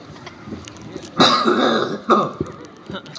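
Coughing from someone at an Acehnese religious talk marking Isra' Mi'raj, with two loud bursts close together, the first longer and harsher and the second short, standing out over quiet background murmur.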